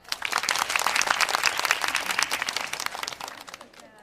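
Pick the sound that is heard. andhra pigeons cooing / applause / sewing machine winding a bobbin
applause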